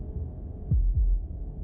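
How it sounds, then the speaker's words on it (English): A slow heartbeat thumps in the video game Slay the Princess, with two deep, soft beats standing out over a low ambient hum and no talking. "That was the sound of a heartbeat"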